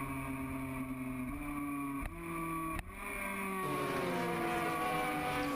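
Racing motorcycles roar over the drop in a MotoGP-style race, several high-pitched engines droning together as they pass, with revs dropping and climbing through gear changes, loud and sustained.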